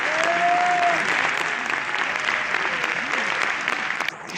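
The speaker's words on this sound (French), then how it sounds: "donc on peut les applaudir aussi" A seated audience at a formal French public gathering applauds the young participants with sustained, even clapping at moderate volume, with a faint whistle-like tone near the start.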